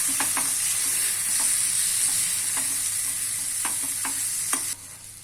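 Spicy green chilli sambharo frying in a pan, a steady loud sizzle throughout with scattered soft scrapes and taps of a spoon stirring, cutting off abruptly near the end.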